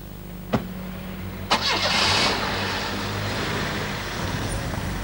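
A car engine is started: a couple of sharp clicks, then the motor catches with a rising roar and settles into a steady mid-pitched idle close by, with no talking.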